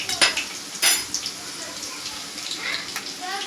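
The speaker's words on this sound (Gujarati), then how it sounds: "તો લસણની કડીનો વઘાર મારી દીધો છે અને શાક કરવાનું છે ભરેલા મરચાંનું." Garlic pieces sizzle in hot oil as a tempering for a stuffed green chilli curry, cooked on an induction cooktop. A soft, even sizzle runs under a few sharp clinks of a utensil against the pan.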